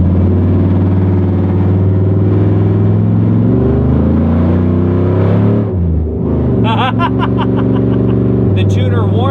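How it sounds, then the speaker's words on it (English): A ridiculously loud 2004 Chevy Silverado fitted with a stage 4 cam and long tube headers, running with incomplete exhaust at night, rumbles close by with a deep lopey idle that swells and shifts as it drives, then fades into chirpy noises. "I'm pulling up at 10:15 at night in this really ridiculously loud truck"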